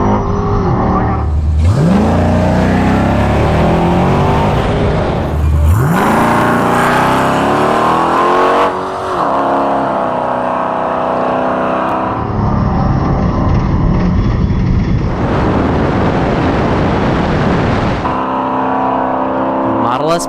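A Tesla Model S Plaid and a Hellcat-powered Cuda launch in a drag race, with loud engine roars and tire noise rising and cutting off in repeated bursts, the sound sweeping past near and then fading, while people talk over it.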